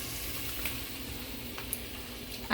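Gumbo sizzling and being stirred in a hot pot, a steady low bubbling hiss with faint scrapes of a spoon, close and alone.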